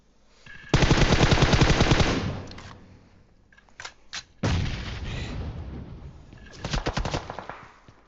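Automatic gunfire from the PUBG Mobile video game comes in three loud rapid bursts separated by short gaps, with a couple of isolated shots in between.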